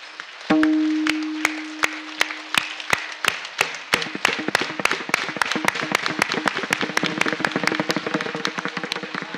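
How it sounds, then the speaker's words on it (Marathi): An audience at a kirtan claps hands in a steady rhythm, beginning with a single tone and sparse claps, then swelling into a fast, loud, dense clapping that carries on throughout. "टाळ्या वाजवा."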